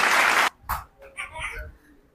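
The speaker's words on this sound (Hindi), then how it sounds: "मम्मी जी की तालियां, ये।" Brief burst of applause welcoming a contestant at a family quiz challenge at home, lasting about half a second before a voice speaks over the quieter remainder.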